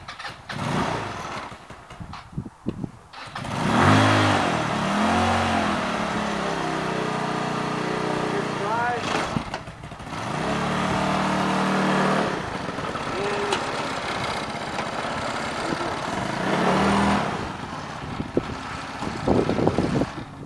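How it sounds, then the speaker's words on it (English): A dune buggy engine starts and runs, revving up and dropping back repeatedly in loud, rough bursts with idling stretches between, close by and alone. "you're going to see the Dunebuggy run."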